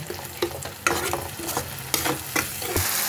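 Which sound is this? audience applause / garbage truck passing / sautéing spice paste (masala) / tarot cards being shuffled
sautéing spice paste (masala)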